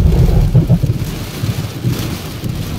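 Low thunder rumbles through a heavy rainstorm near a beach, rolling and uneven under a constant rain hiss, fairly loud, without speech.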